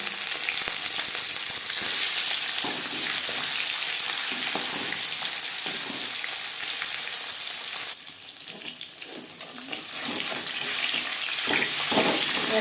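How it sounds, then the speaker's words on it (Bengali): Marinated tilapia pieces frying in hot refined oil, a steady loud sizzle and crackle running throughout, dipping briefly in level partway before rising again, with occasional clatter of a utensil. "পরিমাণ মতো রিফাইন্ড অয়েল গরম করে নিয়েছি এবার দিয়ে দেবো ম্যারিনেট করে রাখা মাছ"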